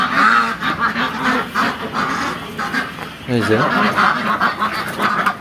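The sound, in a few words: Pekin (Beijing) ducks quacking on a farm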